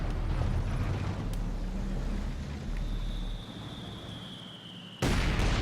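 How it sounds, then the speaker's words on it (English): Mortar explosions during a Company of Heroes 2 battle, with dense rumbling battlefield noise throughout, a lull in the middle and a loud new blast near the end. "Those double mortars going to work on the Schwer."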